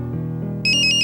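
A telephone ringtone from a call coming from home starts abruptly partway through, a loud, bright electronic tone pulsing in quick repeats after a brief stretch of low background sound.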